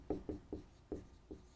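Handwriting strokes scratch out in five short, distinct bursts with small gaps between them, close and quiet, with no talk.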